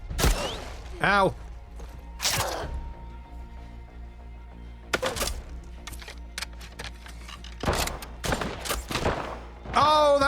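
Gunfire in the video game The Last of Us Part II: several loud, sharp shots spaced across the scene, some in quick clusters, mixed with game effects and a player's voice talking and reacting in between.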